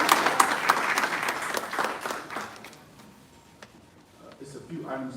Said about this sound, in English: give a round of applause for our township